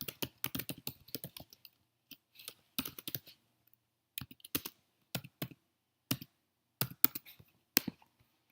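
Fingers typing a zip code on a computer keyboard, crisp clicking keystrokes coming in short bursts and single taps with pauses between, close and alone.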